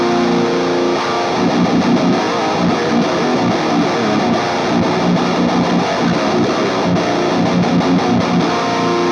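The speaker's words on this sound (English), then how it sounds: "Let's go to a more high gain sort of sound." High-gain distorted electric guitar played through a small, quiet practice amp, with a dense, sustained crunchy tone and steady strummed chords throughout, played alone without talk.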